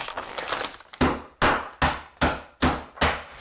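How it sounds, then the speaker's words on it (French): A hammer strikes dried clay mud cakes about six times in a steady rhythm, each sharp crack followed by crumbling, close up. "je le remarque quand je casse cela avec mon marteau"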